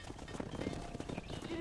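Horse hooves gallop in Red Dead Redemption with a quick steady clip-clop, close and fairly even, while a voice talks over the hoofbeats.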